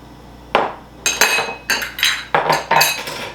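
Kebab ingredients mixed with salt and lemon juice in a bowl, giving a series of about six loud clattering scrapes and clinks of a utensil against the dish in an irregular rhythm, close by with no talk.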